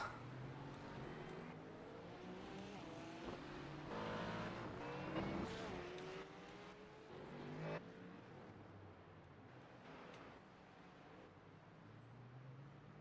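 GT3 race cars, an Aston Martin and a Porsche, run close together in the iRacing simulator, their faint engine notes rising and falling through gear changes with an occasional tyre squeal, fairly quiet throughout.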